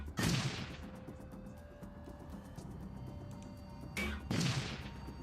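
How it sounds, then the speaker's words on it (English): Fire grenades go off in the tactical game Shadowrun: Dragonfall, two loud whooshing bursts about four seconds apart, each flaring up sharply and fading over the game's low background hum. "Fire grenades."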